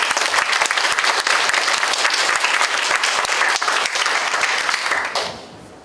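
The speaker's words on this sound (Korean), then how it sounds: "박수 세게 한번 쳐보십시다" A lecture audience of Korean trade association members claps loudly together, dense sustained applause lasting about five seconds before quickly dying away.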